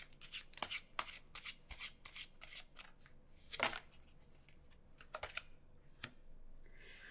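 Tarot cards shuffled and drawn by hand, quick crisp riffling bursts and sharp flicks of card stock close up, in an irregular rhythm, quiet and without talking.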